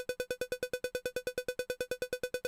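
Drum struck in an even, rapid stream of thirty-second notes at a slow tempo, about eight hits per second, each short and clipped, with no other sound.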